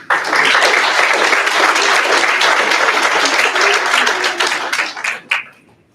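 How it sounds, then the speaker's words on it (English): A crowd at a 2022 learning-center graduation ceremony applauds the graduates: loud, dense clapping held for about five seconds, then thinning into a few scattered claps before fading out. "Give yourselves a round of applause."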